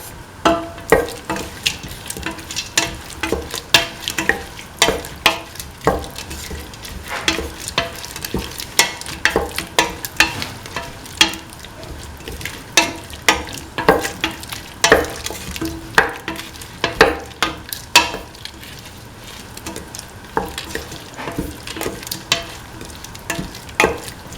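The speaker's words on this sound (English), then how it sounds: "Thoroughly mix." A spoon stirs lentil, bell pepper and coconut milk stew in a pan, producing repeated close scraping and clacking strokes with a wet, bubbling sizzle beneath, irregular but steady throughout.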